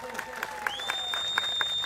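A crowd at an outdoor political rally claps in quick, fairly even bursts. The applause is faint and distant, with a sustained tone and some talking over it.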